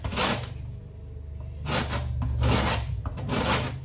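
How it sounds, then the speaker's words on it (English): Oranges being zested on the fine side of a hand grater, giving repeated scratchy rasping strokes in short bursts, close up and moderately loud with no talking. "let's get to zesting our oranges"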